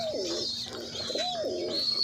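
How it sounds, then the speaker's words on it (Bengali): Pigeons, including Rajshahi Giribaz, coo softly in a repeated, rolling rhythm, a few low throaty calls close by over a faint constant background hum. "মোটামুটি সব কবুতর অ্যাক্টিভ আছে"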